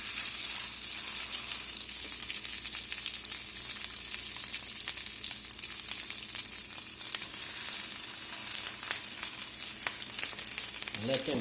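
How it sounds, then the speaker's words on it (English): Salmon fillets sear skin side down in a hot pan, giving a steady, loud, close sizzle that runs unbroken throughout, with faint crackles and spits over the top and no one talking. "I'm going to put these fillets in here, skin side down"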